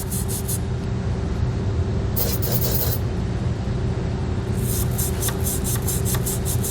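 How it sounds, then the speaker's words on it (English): A steady hiss of lubricant spraying runs throughout, with short bursts of scratchy scrubbing as a wire brush cleans out a bolt hole in a 2000 Chevrolet Silverado frame during a trailer hitch installation. "we're going to spray some lubricant in here. Just wire brush this out."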